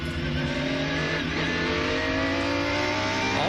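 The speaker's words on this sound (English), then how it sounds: "Here's the view back from McNish's car." Ferrari race car's engine heard onboard during the 1999 Rolex 24 at Daytona, a loud continuous drone with rising revs and no talk over it.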